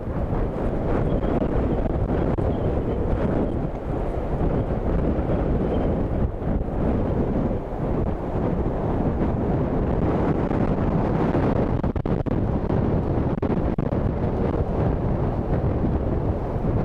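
Strong storm wind gusts roar continuously across the microphone at Dublin Airport, a loud dense rumble with no pauses throughout.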